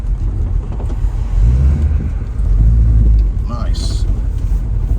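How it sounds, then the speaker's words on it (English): 1972 Plymouth Roadrunner driving through its gears, a loud, close low engine rumble swelling and easing with each shift, with faint speech over it. "It's going through its gears good."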